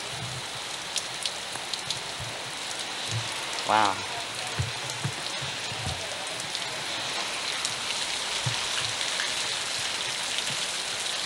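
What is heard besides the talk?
rain falling on a bike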